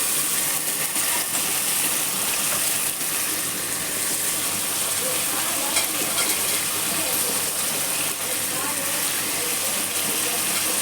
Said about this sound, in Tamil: இஞ்சி பூண்டு பேஸ்ட் நல்லா வதங்கினோன்னா நம்ம நறுக்கி வச்சுருக்கிற தக்காளியை அது கூடவே போட்டோம்.